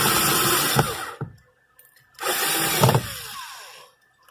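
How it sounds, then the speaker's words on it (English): A power drill drives short self-tapping screws to bolt a solar inverter into a van, two loud whirring bursts of about a second each separated by a brief pause, close up. "bolting in the inverter, and I'm just going to do this other top screw."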